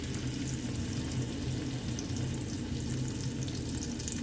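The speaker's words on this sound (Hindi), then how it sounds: "ऑयल ज़रा गर्म होता है मैं अपने कबाब जो है वो इसमें ऐड करती हूँ" Chicken malai kebabs fry in hot oil with a low, steady sizzle and soft bubbling that runs evenly throughout, fairly quiet and close, with no voices.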